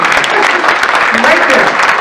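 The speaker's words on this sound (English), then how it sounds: "please clap for her" An audience applauds after a live storytelling performance, with steady, dense clapping throughout and a voice speaking over it.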